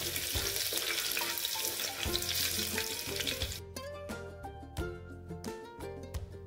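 Mustard seeds and curry leaves spit and sizzle in hot oil during an Indian tadka, a dense, steady crackle that thins after a few seconds into sparser pops over a tonal background.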